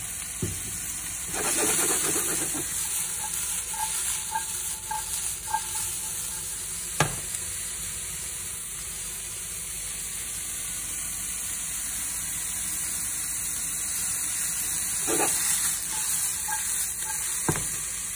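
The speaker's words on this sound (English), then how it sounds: "And so the mushroom is getting brown and fry it." Mushrooms frying in a pan being cooked for ratatouille, giving a steady sizzle throughout with occasional stirring scrapes and clicks of a utensil against the pan, and no talking.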